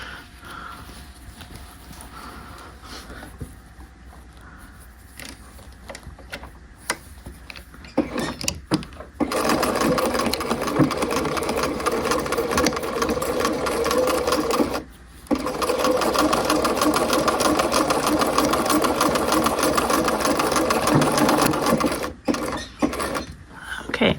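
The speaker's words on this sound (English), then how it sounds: "sew down my shoulder line" A sewing machine stitches the shoulder seam of a half-scale jacket. Quiet handling and a few short starts come first, then two long, loud, steady runs of rapid whirring stitching separated by a brief pause.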